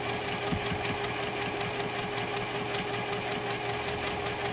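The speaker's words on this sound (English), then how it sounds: "I can go over and make a second stitch a little bit closer" Quilt pieces feed through a sewing machine in one continuous run of evenly paced needle ticks over a steady motor hum, moderately loud and close, with no pause or talking.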